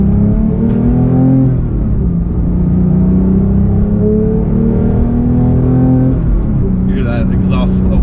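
A 2018 Porsche 911 GT3 with a manual gearbox holds a steady, loud engine drone as its exhaust opens up at around 4,000 RPM. The note shifts slowly in pitch while the car drives, heard from inside the cabin.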